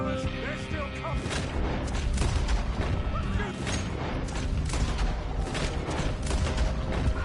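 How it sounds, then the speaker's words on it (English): Dense gunfire crackles in Red Dead Redemption 2, a continuous barrage of overlapping shots and impacts from several directions, loud and busy for the whole stretch. "They sure as shit can hear the gunfire."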